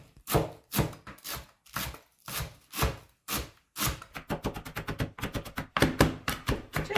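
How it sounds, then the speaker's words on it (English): A knife chops fresh parsley on a cutting board for a cheddar biscuit recipe, giving steady, close rhythmic chops, slower at first and then quicker and denser, with no talk over them. "I'm going to start by chopping my parsley."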